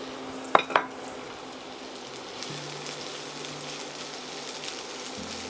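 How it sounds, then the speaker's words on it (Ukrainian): Onions frying in oil in a pan for a grilled pita sandwich, a steady soft sizzle throughout with a couple of brief sharp utensil clinks near the start, close and moderately quiet, no talking. "На цю ж пательню додаю олії та додаю цибулю і обсмажую до гарного золотистого кольору."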